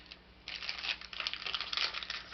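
Sheets of coffee-dyed parchment paper in a handmade Halloween journal are handled close up, giving soft continuous crinkling and rustling that swells and fades in short bursts, quiet and without voices.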